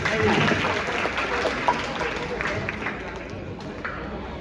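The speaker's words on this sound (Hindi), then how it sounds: "ताली बजाओ खुद के लिए" Students at a school activity workshop in Anand Nagar clap for themselves, dense close clapping that starts loud and gradually thins, with voices mixed in.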